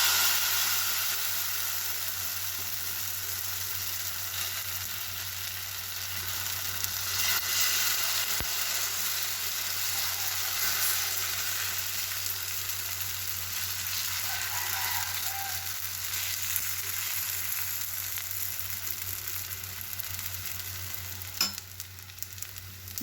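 Steady sizzling of batter frying in a hot pan, a continuous crackling hiss throughout with occasional faint clinks.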